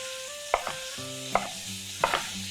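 Beef browning in a pot for a French-style boeuf bourguignon, heard as a continuous close sizzle broken by three sharp utensil scrapes and clinks, with no talking.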